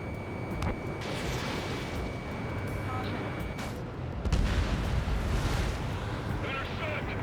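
Anti-aircraft artillery fire in Ace Combat 7 booms and rumbles steadily in a dense wall of combat noise, with scattered sharp cracks and a brief surge midway, under a thick continuous roar.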